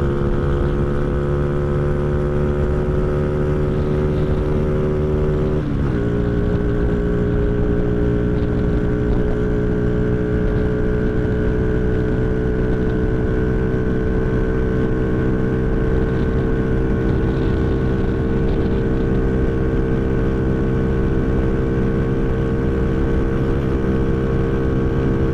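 A motorcycle engine drones steadily during a night ride, loud and close, with a brief gear change shifting the pitch early on and then a sustained, slightly rising hum.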